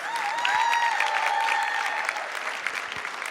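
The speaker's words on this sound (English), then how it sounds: "A warm round of applause for Tehran here." An audience at the AccessCal Gala 2015 claps in steady, dense applause that fills the room, with a tonal whine running through it during the first half.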